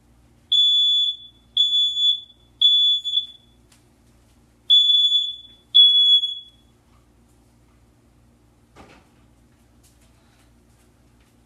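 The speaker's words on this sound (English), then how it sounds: "I'm going to set the fire alarm off" A kitchen smoke alarm set off while pancakes cook gives five loud, shrill electronic chirps in a rapid row, then falls silent apart from a faint clatter.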